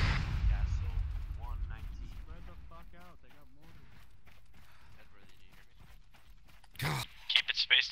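In a military video game operation, mortar rounds land with a sudden loud blast near the end, followed by further sharp bursts, after a stretch of people talking.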